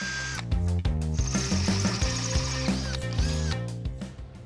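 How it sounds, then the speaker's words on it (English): Power drill boring a few holes in metal bracket stock for a JunkMail Jeep build, a loud steady whine in repeated short bursts with brief pauses between, close up and with no one talking. "Drill a few holes."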